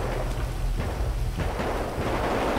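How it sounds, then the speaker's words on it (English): Gunfire in GTA 5 during an LSPDFR military and SWAT police patrol: a dense, rumbling barrage of shots that rolls on without a break. It sounds steady and fairly loud, with no talk over it. "I'm hearing gunshots"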